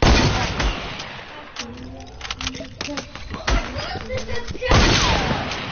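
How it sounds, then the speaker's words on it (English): AK rifle fire in a video game comes in quick bursts of sharp shots over busy in-game sound, while players talk over the action. "Wait, Roan hitting those AK shots"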